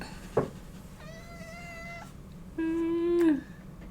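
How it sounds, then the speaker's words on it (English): A cat meows twice up close: a short call first, then a longer, rising-and-falling meow after a brief pause, with a faint click just before the first meow. "here's a cat."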